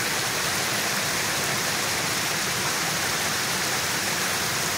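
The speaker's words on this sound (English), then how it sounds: "that's water coming through the culvert from our place" Floodwater rushes through a culvert in Boyd County, Nebraska, a dense, steady broadband roar of moving water that stays constant and fairly loud without any voices.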